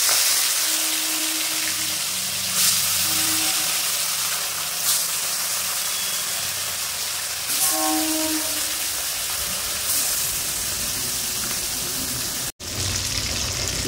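Bata fish rubbed with salt and turmeric sizzle in hot white oil in a wok, a steady broadband hiss with brief crackling bursts throughout and no talking.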